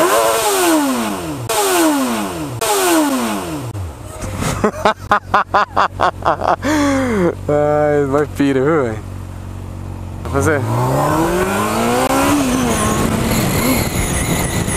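A 600cc motorcycle engine revs hard, rising in pitch again and again, then slams into the rev limiter with rapid stuttering cuts before settling back down. The engine is close and loud, with excited talking over it.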